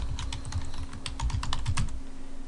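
Rapid keystrokes on a computer keyboard as a password is entered on an Ubuntu 10.04 machine, an uneven run of close, crisp clicks over a steady low hum.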